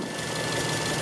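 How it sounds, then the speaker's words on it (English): A Mazda engine with an air-fuel ratio sensor fault runs rough on a rich fuel mixture, giving a steady, close, uneven idle with a knocking texture. "I'll richen it up, get the engine to run rough."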